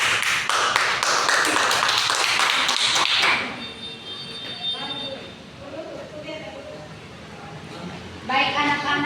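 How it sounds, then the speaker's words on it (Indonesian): Children in a classroom clap in a burst of rapid, loud applause that stops abruptly, followed by quieter room sounds and an adult voice speaking, with a brief return of noise at the end. "tepuk tangan untuk Yanti."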